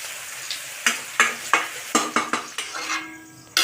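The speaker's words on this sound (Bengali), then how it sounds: "এখানে ডালটা ভেজে নেওয়া হচ্ছে" Mung and masoor dal are fried in a pan for a village-style khichuri, with a run of distinct scraping stirs and clinks of a metal spoon on the pan over a light sizzle, heard close and without speech.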